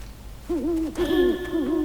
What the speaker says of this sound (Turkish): Şöyle baykuş.